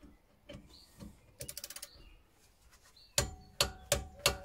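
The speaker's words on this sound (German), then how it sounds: "dann haben wir hier unseren Drehmomentschlüssel. 50 Newtonmeter reichen wir völlig aus. Dann ziehen wir die fest." A torque wrench set to 50 Nm tightens bolts on the rear brakes of an Opel Astra J. A run of quick ratcheting clicks is followed by several sharp, loud clicks spaced about a third of a second apart, close by.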